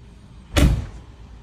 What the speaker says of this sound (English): So I close the door.